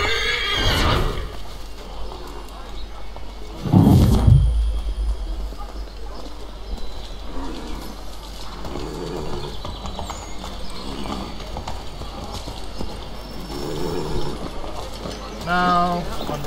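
Horse in Assassin's Creed III neighing loudly twice, with a heavy low snort and thud between, faint clip-clopping hooves and mechanical ratcheting game sounds underneath.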